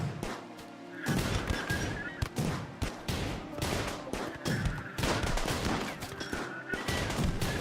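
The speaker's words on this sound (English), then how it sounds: "It's a shootout." Gunfire in a Rimworld shootout: rapid volleys of shots crackle in bursts, fairly close and steady, with brief pauses between clusters and no voices.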